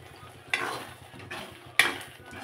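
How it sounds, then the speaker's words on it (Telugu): Paneer curry frying in a pan, with a steady low sizzle and two sharp stirring scrapes of a spoon against the pan, close and fairly quiet. "ఇది బాగా వేగాలి. ఒక 5 నిమిషాలు వేపుకుందాం."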